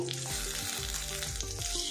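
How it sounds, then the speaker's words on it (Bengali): Spices and chopped small tomato sizzle together in a pan for a cabbage and milk-powder vegetarian dish, a continuous moderate frying hiss alongside steady tonal sounds that come and go. "টমেটোটাও আমি মশলার সাথে এগুলো ভাজা ভাজা করে নেব"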